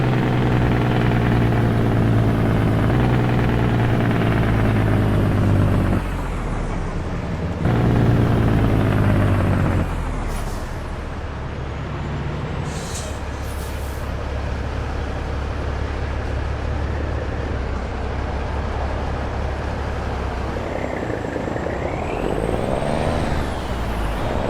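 A Cummins N14 rated at 525 horsepower powers a heavy truck in American Truck Simulator, giving a loud, steady diesel drone that rises and shifts. Air-brake hisses break in partway through, and no one speaks.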